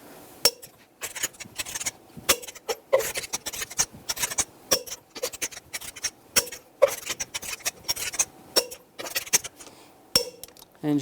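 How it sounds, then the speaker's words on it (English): A torque wrench tightens the wheel lug nuts on a 2011-2018 Ram 1500 in a cross pattern, giving irregular close metallic clicks and ratcheting taps in quick clusters with short pauses between. "Now we're going to torque these in a cross pattern to 130 foot-pounds to tighten the wheel down evenly."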